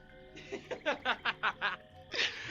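A voice imitates a frog croak for a frog folk character in a Dungeons & Dragons game: a run of about six rhythmic, throaty croaking pulses, then a longer raspy burst, all close and loud.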